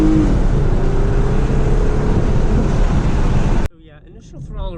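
A 2009 Dodge Charger SE with a four-speed automatic roars loudly and steadily from inside the cabin as the transmission kicks down, then cuts off abruptly to quieter road noise while someone talks.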